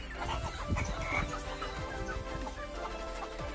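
Several chickens cluck and murmur nearby in a busy, irregular chatter while eating banana stems, with occasional pecking and scratching sounds underneath.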